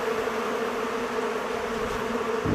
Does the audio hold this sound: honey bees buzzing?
yes